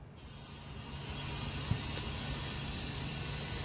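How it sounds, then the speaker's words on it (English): A cheap air compressor pushes a high volume of air into an ATV tire with the valve core removed to seat the bead, a steady close hiss that swells slightly and holds. "We have China's finest air compressor."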